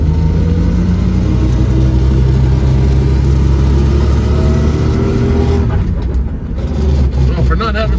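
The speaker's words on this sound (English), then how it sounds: "Winding is definitely coming from the trans" A 1965 Ford Mustang with a 200 inline-six and a T5 five-speed conversion lacking synchros drives along, its engine loud and close with a steady drone and rising pitch, then dips briefly as it shifts gears while a voice talks over it.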